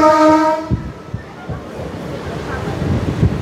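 A Vasai–Diva MEMU local train runs onto Central line tracks, a horn sounding at the start before a steady rumble and rhythmic wheel clatter over joints, close and moderately loud.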